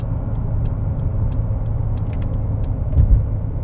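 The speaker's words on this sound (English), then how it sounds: "I'm gonna do a slight acceleration. You can hear the turbos spooling up." A 2021 Mercedes-Benz GLA with a 2-liter turbocharged four-cylinder and 8-speed automatic gently accelerates, its turbos spooling under a steady muffled cabin hum and road rumble, with faint high whistles rising intermittently.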